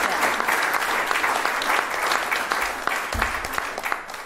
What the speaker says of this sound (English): Thank you, and another round of applause.